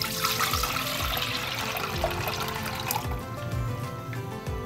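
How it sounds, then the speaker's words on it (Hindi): One litre of milk poured from a container into a cooking pot in a home kitchen, a steady continuous liquid splash and gurgle running throughout, loud and close, with no talking. "दूध लिया है हमने 1 लीटर, उसको एक देचकी में डालते हैं इस तरह से"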